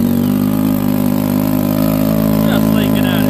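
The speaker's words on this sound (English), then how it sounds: "It does have a bit of an exhaust leak." The engine of a 2017 Yamaha Sidewinder snowmobile with an exhaust leak runs steadily up close, a loud, even mechanical drone, with a voice briefly breaking in partway through.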